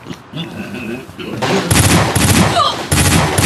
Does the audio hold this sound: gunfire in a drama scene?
yes